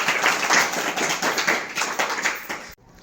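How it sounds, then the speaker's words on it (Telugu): Schoolchildren in a classroom applaud two young game players with a rapid, lively burst of many overlapping claps that holds steady for nearly three seconds, then stops abruptly, leaving quiet room tone. "క్లాప్స్ కొట్టండి వాళ్ళకి"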